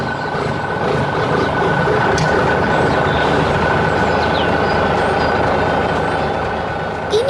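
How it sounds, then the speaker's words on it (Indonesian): An animated yellow truck works in a green field, lifting a big tree, its engine a loud, continuous rumble with a steady hiss, unbroken the whole time. "Truk sedang bekerja dengan sangat fokus di tengah kebun yang hijau."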